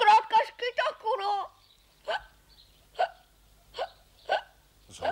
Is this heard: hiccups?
yes